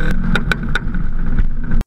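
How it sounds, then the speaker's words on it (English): Rally car with an anti-lag system popping and backfiring through the exhaust, sharp loud cracks repeating over a steady engine drone, close by. "The sensation of that is the backfiring and the flames out of the exhaust."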